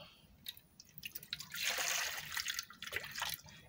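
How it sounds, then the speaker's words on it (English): Water is poured into a bowl sitting on a scale, a faint trickle and splash that swells in the middle and tapers into light drips, quiet and close. "I'm going to introduce a little of water into the bowl."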